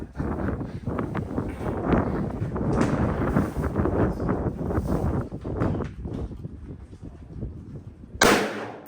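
Gunfire while hunting on public land, dense sharp reports and rustle through most of the span, then a single loud crack near the end, close and harsh.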